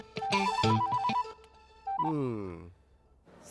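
A telephone ringtone plays as a bright melodic electronic tune in a scene from a Hindi-dubbed action film, sounding in two loud bursts separated by a short pause, with a voice briefly heard.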